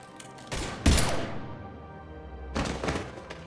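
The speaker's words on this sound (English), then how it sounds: "Now open fire!" Gunfire in the video game Mass Effect 3 sounds as two bursts of loud, close, thumping shots, the first heavier, the second a couple of seconds later, over a low background rumble.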